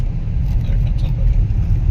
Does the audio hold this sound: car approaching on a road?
yes